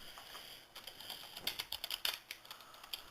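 Login details typed on a computer keyboard, a quick uneven run of soft clicks building in the middle and trailing off, close and quiet with no talk.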